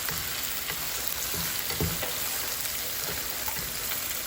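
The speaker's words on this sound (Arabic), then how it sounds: "هسه شويه انحمست عندي الكبده" Chicken liver searing in a pan with onions, a continuous low sizzle with light scattered pops and a few soft utensil knocks, no voices.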